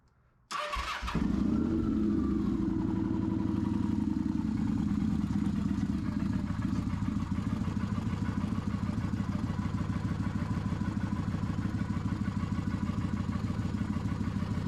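A smoking motorcycle engine, raised on a lift, cranks and catches after a moment, then settles into a steady, loud, close-up idle that runs without a break for the rest of the clip.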